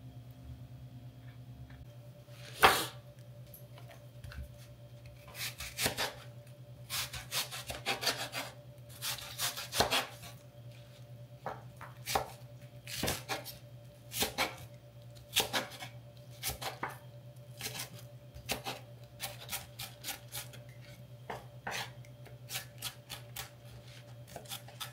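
Onions and other vegetables being chopped with a knife on a board, a steady run of sharp, close knife strikes in uneven rhythm over a low background hum, with no talking.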